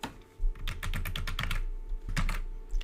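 Typing on a computer keyboard while entering a student ID and password, a quick run of close, crisp key clicks, a short pause, then a few more taps.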